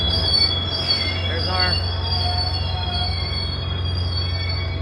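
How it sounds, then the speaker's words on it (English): A SunRail commuter train pulls into the Kissimmee station, its steady low rumble running throughout with high metallic wheel squeals and brake whines rising over it, close and fairly loud. "Train has arrived."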